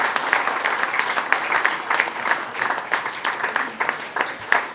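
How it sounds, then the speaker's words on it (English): An audience at a book launch applauds, a dense, steady round of clapping that carries on evenly throughout without pause. "So, ladies and gentlemen, an encouraging round of applause for first-time writer Pamela Sinha Mathur of"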